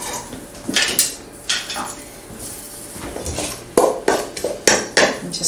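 A spoon stirs thick meatball mixture with breadcrumbs in a bowl, giving irregular scraping and clinking strokes against the bowl, some sharp knocks standing out, with brief speech in between.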